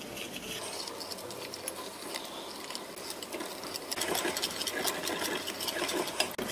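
Glutinous rice flour mixed with a spoonful of frying mix, a pinch of salt and cold water is whisked into a thick batter, giving a quick, steady patter of clicks and taps close up with no voices.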